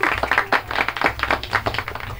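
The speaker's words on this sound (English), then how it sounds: "A round of applause for everybody." Studio applause on a radio show, a brief uneven patter of a few people clapping close by, with no talk over it.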